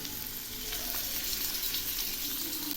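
Pieces of silver carp crackle and sizzle in hot oil in a pan, a dense continuous frying hiss at steady moderate loudness with no talk.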